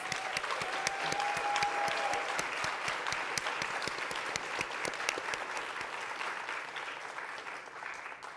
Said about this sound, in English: can we just give a big applause to them